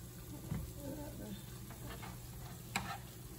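Oreos frying in very hot oil make a faint, even sizzle, with a couple of sharp clinks from a utensil touching the pan.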